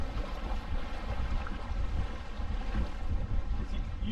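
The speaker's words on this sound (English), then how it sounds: "Feel the gusts now." Wind gusting over a Drascombe Lugger sailboat out on open water, a steady, loud rumbling buffet of wind noise on the microphone with water sounds beneath, and no talking.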